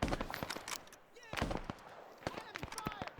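Bolt-action rifle fire in a Vietnam-era survival video game: a handful of separate sharp shots spaced a second or so apart, fairly faint, with someone talking over them.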